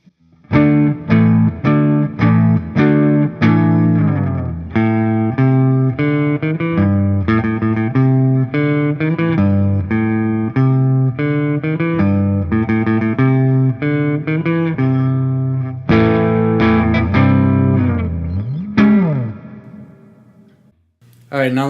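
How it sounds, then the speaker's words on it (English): A 2005 Jimmy Page Number One Gibson Les Paul Custom played on its neck pickup rings out a continuous run of picked notes and chords, loud and up close, before a final slide and a fade. "Let's hear the neck clean."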